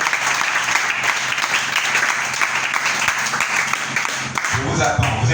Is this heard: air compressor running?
no